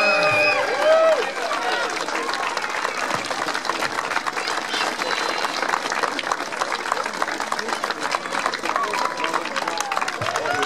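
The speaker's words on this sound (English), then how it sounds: "Big round of applause, people" A crowd at a strongman competition claps and cheers continuously, loud and steady throughout, with scattered voices and whoops mixed into the dense noise.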